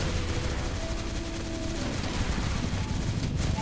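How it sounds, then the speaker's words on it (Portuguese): Rapid overlapping gunfire from many players in the online shooter Crossfire, a continuous dense barrage of shots and bursts, loud and close throughout. "É ruim de tu subir com essa quantia de gente atirando"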